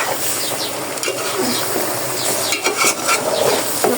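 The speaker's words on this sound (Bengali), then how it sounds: "এটা নাড়া দিয়ে দিতেছি" Bean and potato curry being stirred in a pot, a loud close sizzle broken by repeated scrapes and clinks of a spoon against the metal, with faint voice-like sounds underneath.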